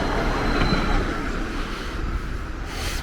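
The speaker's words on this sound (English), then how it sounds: "Oh, here's the tram." Tram passing in Munich near the Westfriedhof, a steady low rumble and rolling rail noise with a faint high squeal, moderately distant under outdoor ambience.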